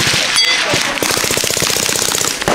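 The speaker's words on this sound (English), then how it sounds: "You just shoot the gun." Rapid automatic gunfire from a rifle, a fast loud string of repeated shots after a brief opening burst, ringing close and continuous.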